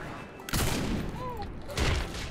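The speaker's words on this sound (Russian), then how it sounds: "дробовик все еще топовое оружие в игре" Shotgun blasts in Saints Row IV, two loud broadband bursts about a second apart over a busy game background.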